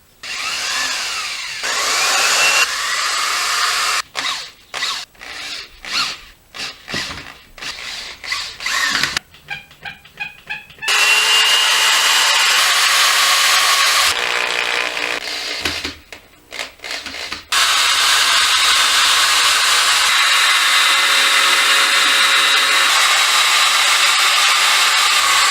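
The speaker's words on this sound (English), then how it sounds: "Got some tape on my drill bit, got it clamped, and frickin' drill it in." A handheld power drill bores into a clamped log for a rustic mirror frame, with a bit wrapped in tape. It whines loudly in repeated short bursts and stuttering pulses, then settles into longer sustained high-pitched runs, with no talking.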